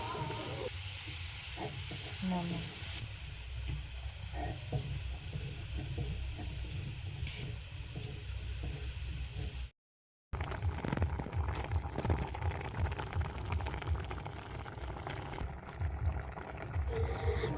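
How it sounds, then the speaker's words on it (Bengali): Dudhpuli pithas, rice-flour dumplings, boiling in milk in a pot on a gas stove give a steady, hissing, bubbling simmer that runs throughout, broken by a brief silent gap partway through. "পিঠেগুলি ফুটছে এবং খুন্তি দিয়ে দেখলাম সেদ্ধও প্রায় হয়ে গেছে"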